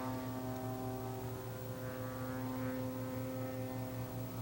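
The aerobatic Ultimate plane falls sideways in a knife-edge spin, giving a steady, moderately loud propeller and engine drone with layered tonal hum and no voices.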